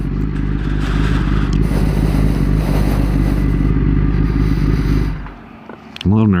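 A Kawasaki ZX-10R idles loudly and roughly with a rumbling clatter for several seconds, then the engine cuts and fades, followed by a brief voice at the end.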